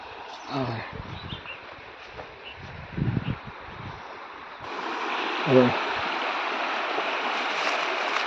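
Steady rushing of the Arjuna River fills the background, with brief voices and rustling near the start and a louder gush of broadband water noise later.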